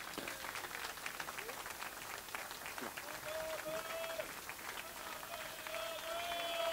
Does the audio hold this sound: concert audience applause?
yes